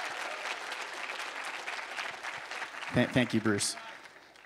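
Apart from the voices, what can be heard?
audience applause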